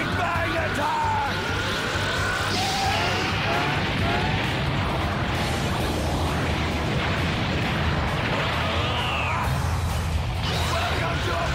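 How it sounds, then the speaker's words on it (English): Super Vegeta's Big Bang Attack in a Dragon Ball video game, a dense, unbroken roar of explosions and booming blasts that stays loud for many seconds, with swirling energy whooshes and faint voices underneath. "Welcome to Super Vegeta's Big Bang Attack!"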